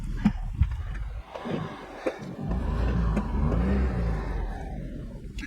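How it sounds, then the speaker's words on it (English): A Honda Z UM4 turbo mid-engine 4x4 kei car idles and revs with a whooshing, whirring rush of air drawn through the turbo intake, with a few sharp knocks early on. "You can hear the intake, the turbo sucking in air."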